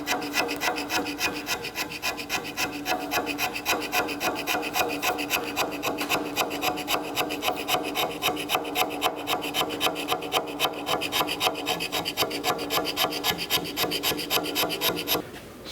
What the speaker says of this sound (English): we scrape in one direction the one time, and then we come back and scrape in the other direction the second time.